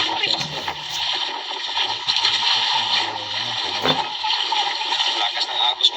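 Strong river current rushing during a fishing outing, a steady broadband wash of flowing water close by, with people talking over it.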